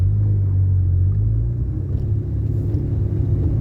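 A classic Austin Ruby car with its choke on pulls away from a stop, its engine a loud, steady low rumble that shifts slightly in tone as it accelerates smoothly through a CVT.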